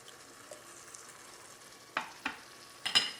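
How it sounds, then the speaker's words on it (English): Crushed tomatoes go into a hot pan with cooked garlic, giving a soft steady sizzle broken by several sharp stirring scrapes and clacks near the end, with no talking. "At this point, we're going to add the crushed tomatoes"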